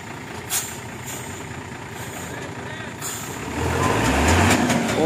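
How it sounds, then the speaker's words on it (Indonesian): A heavy tronton truck strains its engine in a traffic jam while its left tire slips, a low rumble that swells louder toward the end as someone talks over it. "Ini ternyata truk Kinonya agak kesulitan, soalnya ban sebelah kirinya itu slip."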